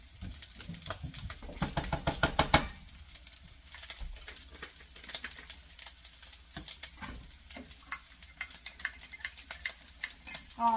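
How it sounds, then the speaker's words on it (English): Vegetable fried rice seasoned with onion powder and black pepper gets stirred in a pan, a quick burst of rapid scraping strokes followed by slower, scattered scrapes and clinks over a soft sizzle, close and without talk. "Get everything kind of stirred here."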